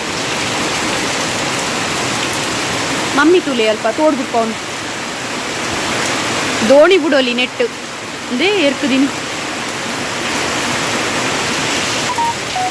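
Steady rain hisses down throughout, a continuous wash of falling water with people talking over it at intervals.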